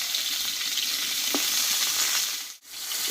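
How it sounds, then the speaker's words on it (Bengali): Pointed gourd frying in oil makes a loud, steady close-up sizzle that briefly dips near the end, with a single soft knock from stirring and no voices. "আমি কষিয়ে নিয়েছি তবু এখনও কিছুক্ষণ আমি কষিয়ে নেব আর এই পটল কিন্তু কষতে একটু টাইম লাগে"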